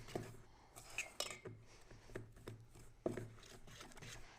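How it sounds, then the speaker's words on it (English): A spoon working peanut butter powder and applesauce into a wet dough in a bowl, giving soft scraping and clacking strokes at an uneven rhythm, quiet and close, with no talking. "we're basically going to mix until it turns into a dough"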